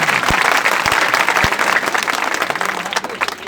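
Loud, dense clapping from a large audience fills the whole span, steady and close, with a few sharper claps standing out near the start.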